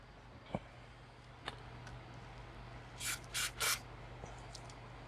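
Three quick hissing bursts of aerosol cleaner sprayed into a potentiometer of an early 1970s Marshall guitar amp, close and distinct, after a few faint clicks and taps in a quiet room.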